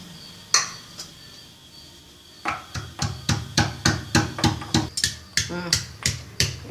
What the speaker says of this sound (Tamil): இஞ்சி பூண்டு இடிச்சுக்க போகிறேன்